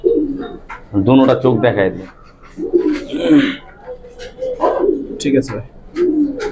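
Giribaz pigeons held up for sale, soft low cooing in short bursts, close by, mixed with someone talking over them.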